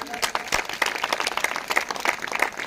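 A church congregation claps loudly and rapidly together, a dense burst of applause lasting a few seconds, close and steady.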